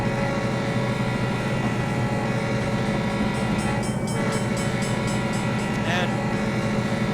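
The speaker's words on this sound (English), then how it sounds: "This is an express train, an Amtrak E8." An Amtrak E8 express train in Train Simulator rumbles steadily and loudly with a continuous low engine drone and track noise, joined by brief higher tonal bursts like a horn or whistle near the middle and end.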